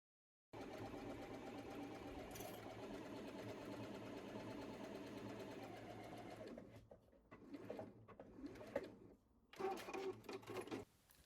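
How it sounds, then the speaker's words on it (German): A domestic sewing machine stitches the side seams of a dress, whirring steadily for about six seconds, then running in short stop-start bursts. The sound is close, with no talking. "Ich nähe das mit der normalen Nähmaschine."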